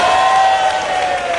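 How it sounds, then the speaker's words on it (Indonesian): Applause and cheering from a studio audience at an Indonesian TV talk show, a dense loud burst of clapping with a steady electronic tone running underneath. "Give applause for Arman Maulana."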